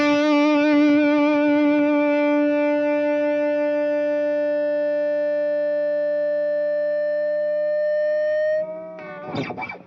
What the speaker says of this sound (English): Nice ballsy amp kind of distortion. Of course, when you hit the compressor, then you have a nice singing sustain too.